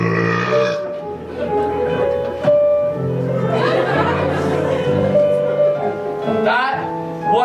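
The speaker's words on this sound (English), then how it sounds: "That was the biggest burp I had ever done." A loud, drawn-out burp performed live on stage during a community theatre production of the Matilda musical, rising and falling in pitch over several seconds, with laughter and chuckling around it.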